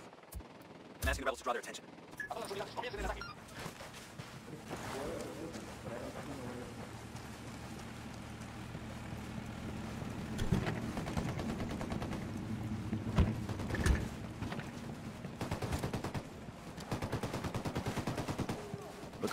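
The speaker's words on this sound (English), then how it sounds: "Ready to fire. I'm opening fire." Gunfire from the Ghost Recon Wildlands video game, a steady spray of rifle shots with occasional louder bursts, heard under radio-style voice chatter and a low engine drone.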